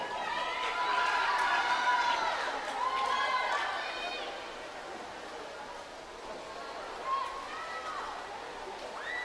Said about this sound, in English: It's always nice to see them cheering everybody and even the last place finisher.